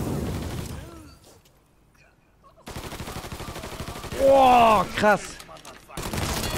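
Machine gun fire in the game Mafia 3, rapid bursts of shots rattling loudly after a quiet stretch, with a man reacting briefly over the shooting.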